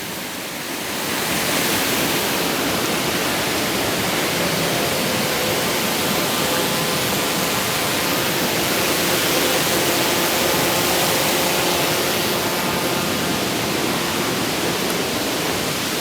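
Tamaraw Falls in Puerto Galera, Oriental Mindoro, pours as a constant, loud broadband rush of falling water that holds steady without pauses.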